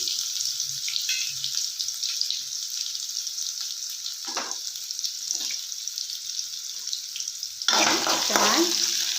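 Cumin seeds and curry leaves hit hot oil for a potato palya, giving a bright steady sizzle with a few soft clatters and a louder burst of spitting near the end, no talking.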